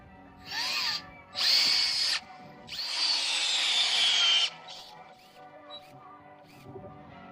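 A power drill bores a hole for a lag bolt into a log cabin wall, running in three bursts, short, short, then a longer high whine, close and loud with no talk.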